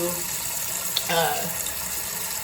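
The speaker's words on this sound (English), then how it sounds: "we're gonna want to turn our water on hot, like hot, like as hot as your water can go" Hot water runs from a kitchen tap at full heat, ahead of scrubbing a cast iron pan, as a steady broadband rush with a brief splashy surge near the middle.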